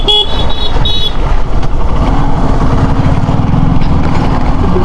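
Cars stuck in a traffic jam on a badly broken village road, with several short horn toots near the start over a continuous close rumble of engines and traffic.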